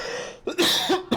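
Several quick, harsh coughs from a single person, close and fairly loud, in two bursts separated by a brief pause, with no talking.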